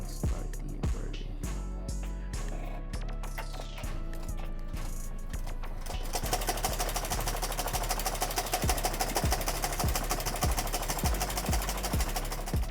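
An embroidery machine starts stitching a design, a rapid mechanical clatter of the needle bar that settles into a fast, even, continuous rhythm after a few slower, irregular knocks at the start.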